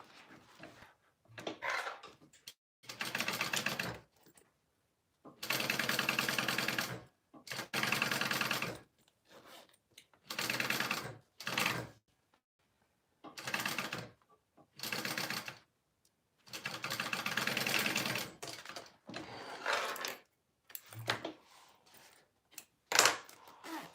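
A sewing machine stitches a Momexa pattern piece in a run of short, steady bursts of rapid mechanical whirring. Brief pauses break up the runs, and the sound is fairly close but moderate in level.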